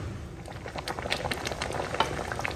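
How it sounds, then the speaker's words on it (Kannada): Kalale huli, a bamboo shoot curry, bubbles vigorously in a pot, with dense irregular popping and plopping close by and steady throughout, no voices. "ಇವಾಗ ನೋಡಿ ಕಳಲೆ ಹುಳಿ ರೆಡಿಯಾಗಿದೆ ಚೆನ್ನಾಗಿ ಕುದೀತಾ ಇದೆ ಕೊತ ಕೊತ ಅಂತ"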